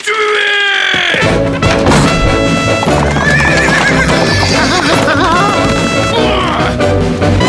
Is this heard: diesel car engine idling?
no